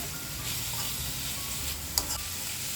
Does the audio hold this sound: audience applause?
no